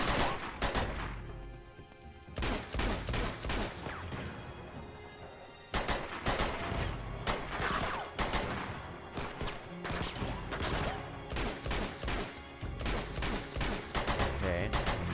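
Gunfire rattles through a firefight in the video game Uncharted 2: Among Thieves, with loud dense bursts of automatic fire and single shots repeating throughout, broken by a brief lull near the midpoint.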